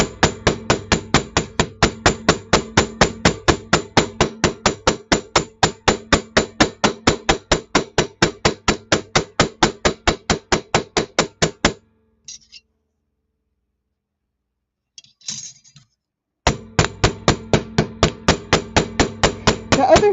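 A sterling silver feather cuff bracelet takes a long run of quick, evenly spaced hammer blows, loud and close. A few seconds of near silence with a couple of faint knocks follow before the hammering resumes.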